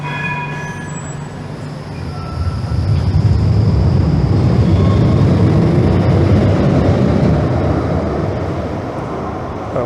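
A Brussels premetro tram rolls past on the surface, its rumble swelling from a quieter start into a loud, steady roar with faint high tones early on.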